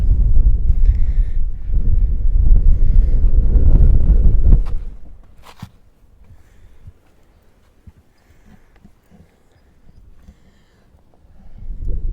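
Heavy wind rumbles loudly across the microphone for a few seconds, then drops away to a quiet background before another gust builds at the end.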